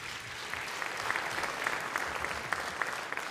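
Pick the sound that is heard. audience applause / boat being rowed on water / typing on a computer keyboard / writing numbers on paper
audience applause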